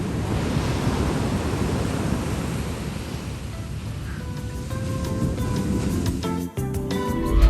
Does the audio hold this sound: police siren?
no